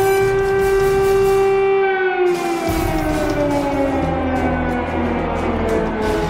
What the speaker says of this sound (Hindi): क्रेमलिन, मॉस्को के चप्पे चप्पे में इमरजेंसी सायरन।